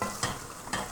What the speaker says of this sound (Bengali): ভালো করে ভাজতে হইব তেলের সাথে